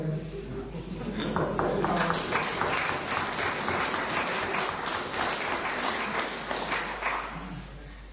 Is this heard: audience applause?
yes